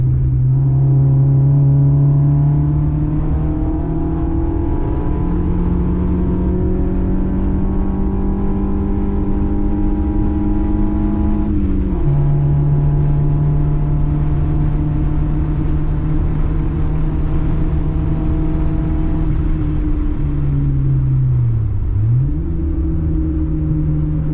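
A Mini race car laps Castle Combe on a track day, its engine droning loudly and continuously close by, pitch climbing through the gears, with quick drops on shifts and a deep dip while braking for a corner.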